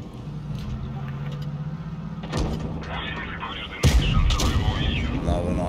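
Tank cannon shots in World of Tanks Blitz, two sharp booming blasts set apart by about a second and a half against a steady engine rumble and game noise.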